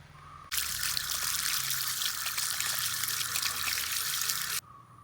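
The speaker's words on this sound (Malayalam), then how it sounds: "ആദ്യം നമുക്ക് ഈ പായലൊക്കെ എടുത്തൊന്ന് കഴുകി വൃത്തിയാക്കി എടുക്കാവേ" Tap water gushes for about four seconds while aquarium moss is rinsed clean for a betta fighter-fish tank. It is a loud, steady, close rush that starts and stops abruptly.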